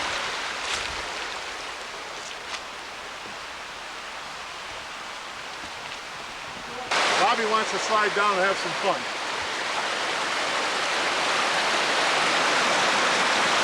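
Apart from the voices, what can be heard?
14-foot waterfall, moving water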